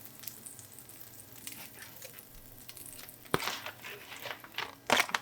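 A patty melt frying in butter in a pan gives a soft, steady sizzle, broken by a few louder scraping and crackling bursts as it is moved around. No one speaks.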